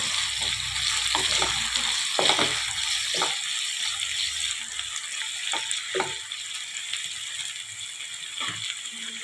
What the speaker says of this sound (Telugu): ఒక 10 మినిట్స్ నూనెలో బగరి చేస్తే సరిపోద్దండి